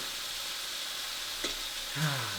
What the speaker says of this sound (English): are you frying the chicken in oil?